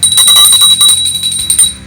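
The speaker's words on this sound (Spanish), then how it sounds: "Es como la campana de la basura." A bell sound effect in the style of a garbage truck bell, with repeated bright metallic rings over a lower rattling bed, loud and close for about two seconds.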